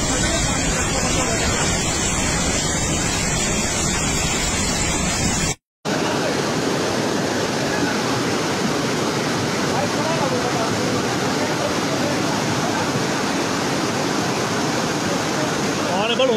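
Swollen river in full spate below Dharamshala after a cloudburst upstream, a dense, continuous roar of rushing water that fills the scene, loud and close, with a brief cut partway through.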